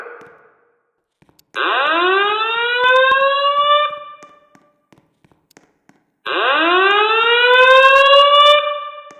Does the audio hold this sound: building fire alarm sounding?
yes